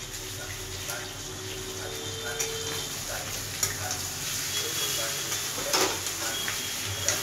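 Garlic and red chili paste fry in a pan, giving a steady, close sizzle with occasional stirring scrapes and faint talk underneath.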